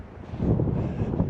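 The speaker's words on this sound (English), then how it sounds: "It's windy today, so it's going to blow back in." Wind blows across a snowy driveway in a winter storm, a low rushing buffet against the microphone that swells after a brief lull and holds steady.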